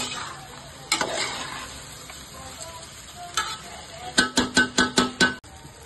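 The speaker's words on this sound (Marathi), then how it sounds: "हलक्या हाताने आपण त्याला वर खाली करायचं, नाही बासमती तांदूळ आहे, त्याचा तुकडा होऊ शकतो" Prawn rice made with basmati rice is gently stirred in a pan over a low sizzle, with a few scattered scrapes followed by a quick run of about seven rhythmic spoon strokes near the end.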